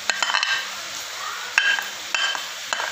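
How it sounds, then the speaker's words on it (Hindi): Carrots, corn and peas fry in a pan with a soft, steady sizzle, punctuated by a few sharp clinks and scrapes of stirring against the metal. "तो इनको फ्राई करते हैं। ये सारी चीज़ें जो हैं हम फ्राई कर लेते हैं।"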